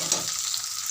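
Onions sizzling in a pan of hot oil in a home kitchen, a close, steady frying hiss that lasts about a second.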